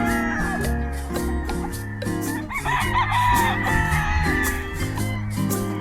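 A sweater roundhead stag rooster crowing on a farm in the morning, a loud, near, drawn-out call with wavering tone, surrounded by other crowing and clucking fowl in the background.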